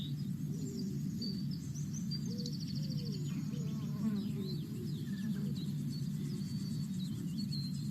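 Steady insect buzzing and chirping fills an outdoor meadow, with scattered high bird calls above a constant low hum.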